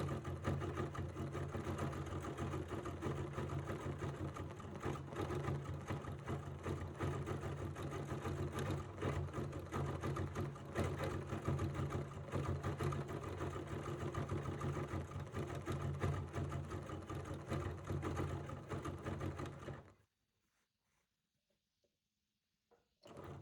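A sewing machine stitches over couched fibers on an embroidered flower design, a dense continuous mechanical whir running for about twenty seconds before cutting off to near silence.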